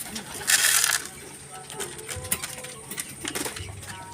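A hen pigeon coos softly among other pigeons in a loft, with a short burst of flapping or rustling near the start and scattered small knocks and clicks after it.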